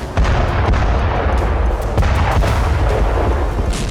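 Artillery fire and explosions in war footage from the Russia–Ukraine front: loud, close, continuous rumbling blasts with sharp bangs scattered throughout, dense and relentless, with no voices.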